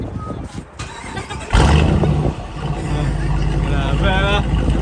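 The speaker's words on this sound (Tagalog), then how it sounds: "Grabe yung exhaust." Exhaust of a new Dodge Durango RT with the SRT package revving loudly up close, a sharp burst of engine roar that settles into a sustained rumble while people exclaim over it.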